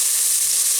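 Diced onion hitting hot olive oil in a pan for pesto pasta gives a dense, loud, continuous hiss of frying, close and steady for under a second with no voice.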